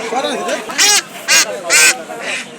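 Ducks at a busy outdoor poultry market letting out several loud, harsh honking quacks in separate bursts, close by, with people talking over and between the calls.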